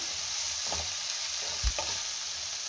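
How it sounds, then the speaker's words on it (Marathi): Lemon and green chili mixture being stirred in a pan, with a steady frying sizzle and a couple of soft scraping stirs near and alone. "पुन्हा सगळं व्यवस्थित मिक्स करून घेऊया।"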